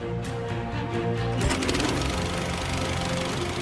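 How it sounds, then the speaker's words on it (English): A motor clatters, then a louder mechanical rattle kicks in and keeps running steadily as an air compressor starts up close by, inflating salvage airbags to raise a sunken boat. "Okay, fire off the compressor."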